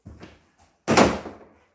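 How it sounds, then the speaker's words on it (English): A finger strikes a door: a few faint soft taps, then a single louder, close wooden thunk that fades quickly. "I'm just going to touch the door with my finger"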